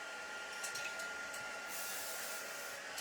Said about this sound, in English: I'm going to give a little bit of spray.